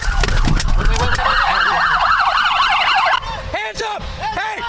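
Loud wailing police sirens cycle up and down nearby after a high-speed pursuit ending in a crash, then switch to a quicker yelping pattern with a few short whoops.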